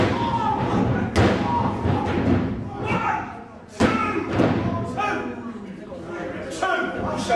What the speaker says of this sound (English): Nice snap suplex from Stone